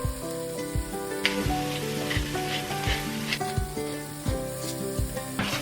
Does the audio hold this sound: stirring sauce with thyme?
yes